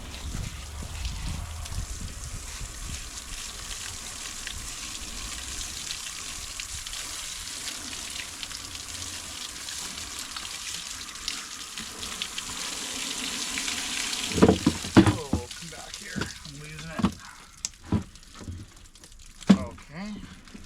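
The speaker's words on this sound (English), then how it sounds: "We're going to give this a bit of a go, a bit of a rinse off, and see what we get underneath all this goo." Water rinses sticky goo from a Can-Am 250 TNT motorcycle fuel tank during restoration, a steady sizzling spray and trickle that runs for most of the time before breaking into louder clunks and splashes near the end.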